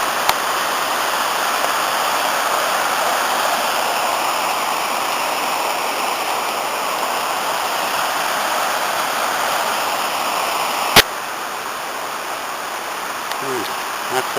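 Steady rushing roar of waterfalls at Fairy Glen on the River Conwy near Betws y Coed, a dense continuous white-noise torrent close by with a brief sharp knock near the end.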